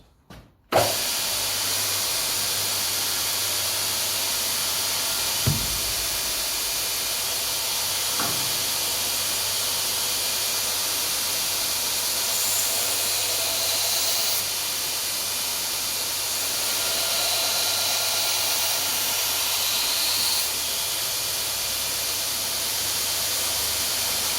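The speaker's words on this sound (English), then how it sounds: "We'll get started on the grinder soon." A grinder runs on a knife being repaired, giving a steady loud hissing whir that holds nearly constant throughout, with a few brief knocks.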